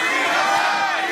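A large esports arena crowd at a 2014 NA LCS playoff final roars and cheers in a dense, loud, sustained wall of voices.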